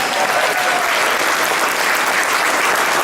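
A crowd applauds steadily, a dense wash of clapping that stays loud and even throughout without talk.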